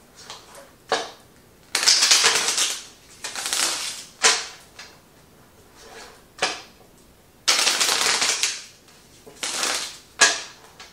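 A deck of tarot cards is shuffled by hand in several brisk bursts of riffling and flicking, separated by short pauses, close up and alone.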